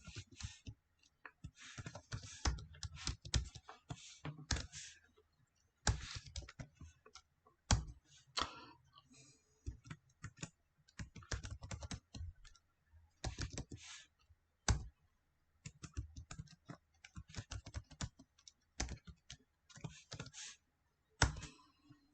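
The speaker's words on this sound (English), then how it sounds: "I'll type this out and then kind of explain what I'm doing." Typing on a computer keyboard with rapid, uneven bursts of light plastic key clicks separated by short pauses, close and fairly quiet, with no voice.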